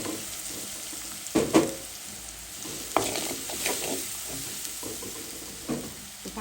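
Turmeric, chili and coriander spices fry in a pan for a shidol shutki (dried fish) vegetable curry, a steady sizzle broken by several sharp scraping stirs of a spatula, close and clear with no talking.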